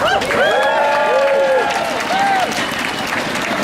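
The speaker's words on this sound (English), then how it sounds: "Give yourselves a round of applause." A union rally crowd in Portland bursts into loud, steady applause mixed with whoops and cheering voices, filling the space for several seconds.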